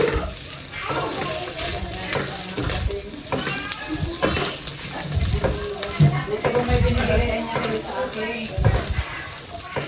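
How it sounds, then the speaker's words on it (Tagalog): Samgyupsal pork slices frying in a pan, a continuous close sizzle with scraping and stirring noises, under occasional talking. "Prito na lang po sa kawali."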